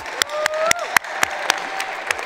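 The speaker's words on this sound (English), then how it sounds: "let's give a round of applause, everyone." At a high school graduation ceremony for East Anchorage High School, scattered hand claps ring out one by one, sharp and distinct at irregular intervals, with a thin tone faintly sustained in the background.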